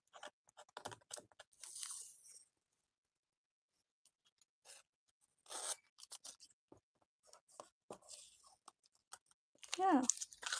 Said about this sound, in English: Let's remove the tape.